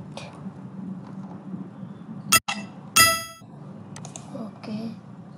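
Scratch's built-in collect sound effect, a bright metallic clang with a sparkling chime tail, plays once near the middle over faint room noise, with a few softer clinks around it.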